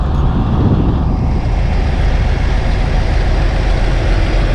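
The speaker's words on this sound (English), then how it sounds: "So I had to start the engine just to run the AC." A steady, low engine rumble idles continuously at close range, loud and unchanging, with no other sounds.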